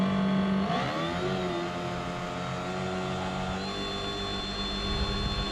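An 11 ft Cobra Explorer kayak is driven by a 58V ECHO battery powerhead on a Kayakbuddy engine leg, giving a steady close whine that rises in pitch as it speeds up, then holds at cruising speed with faint water noise.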